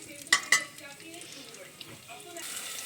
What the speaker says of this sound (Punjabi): ਲਸਣ ਨੂੰ ਅਸੀਂ ਚੰਗੀ ਤਰ੍ਹਾਂ ਲਾਲ ਕਰਾਂਗੇ ਕਿਉਂਕਿ ਲਸਣ ਜਦੋਂ ਲਾਲ ਹੋ ਜਾਏਗਾ ਉਹਦਾ ਟਾਈ ਟੇਸਟ ਅੱਛਾ ਆਏਗਾ